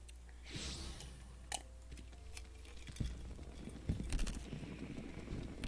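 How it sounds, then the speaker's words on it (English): Someone sips a drink and crunches ice between their teeth up close, quiet irregular crackling chews and a few sharp clicks following one another over low background hum. "sipping noise and also the ice crunching in teeth noise."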